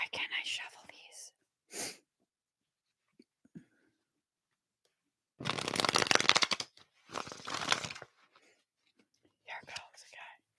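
Two bursts of crisp card riffling stand out amid quiet pauses, with soft whispering and brief rustles around them.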